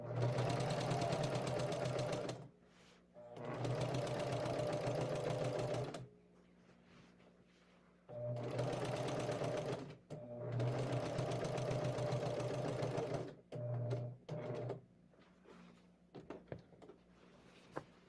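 A domestic sewing machine stitching a quilt runs in long steady bursts of rapid whirring, stopping and restarting several times, with short stutters near the end and no talk.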